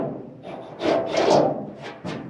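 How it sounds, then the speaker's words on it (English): A drilled hole in a panel on an M1010 ambulance gets its backside deburred, with several short scraping, rasping strokes of moderate loudness and quiet gaps between them, close up and with no voice. "Deburr the backside."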